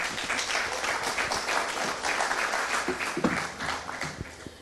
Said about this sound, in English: you can go ahead and give yourselves a round of applause